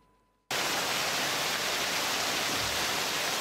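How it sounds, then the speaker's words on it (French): Steady heavy rain pours in Madinani, a dense, even hiss starting abruptly and continuing loud without pause. "La pluie, le signe du ciel"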